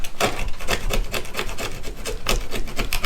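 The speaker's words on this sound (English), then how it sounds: "we're just going to scrape this old glue" A pocket knife scrapes old glue off a fishing rod's reel seat in quick, rhythmic rasping strokes, close up and loud, about a dozen short scrapes in steady succession.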